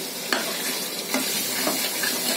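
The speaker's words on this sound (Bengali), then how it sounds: "মাঝারি আঁচে রেখে আমি মাংসটাকে ভালো করে কষাবো" Mutton sizzles as it is stir-fried (kosha) over medium heat for a Bengali mutton curry, a dense close frying hiss broken by a few light stirring scrapes.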